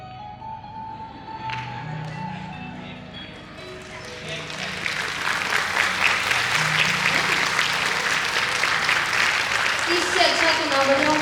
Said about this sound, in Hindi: इनका अपना एक अलग तरीका है ताली बजाने